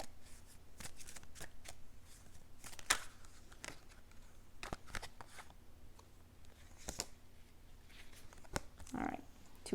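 A tarot deck is shuffled by hand close up. It gives a steady soft riffle and patter of cards with occasional crisp snaps, over a faint room hiss.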